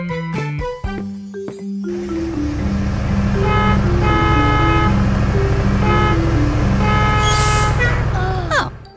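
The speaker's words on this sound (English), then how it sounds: "It's Barry the bus. Looks like he's in a rush." A cartoon bus from a kids' garage show rushes past, its engine rumbling steadily under a run of repeated horn toots in a jaunty pattern, loud and close, with a brief clattering start.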